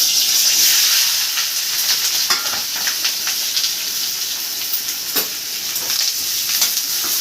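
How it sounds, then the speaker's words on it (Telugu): Onions frying in hot oil for a prawn curry give a steady, close hissing sizzle with scattered soft crackles and stirring scrapes, no voices. "మన పచ్చి వాసన పోయేంత వరకు ఏగాలి ఉల్లిపాయలు"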